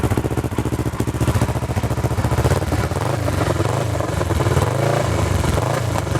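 A Kawasaki ER6N two-cylinder motorcycle engine, converted to look like a ZX10R, revs loudly and steadily nearby with a deep, throbbing exhaust note that rises and falls through repeated throttle blips.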